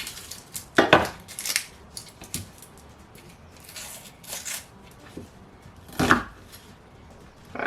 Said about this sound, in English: We're then going to roughly chop up the onions.